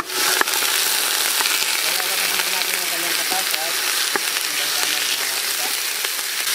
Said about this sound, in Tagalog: Bubuhos na natin ating bulalo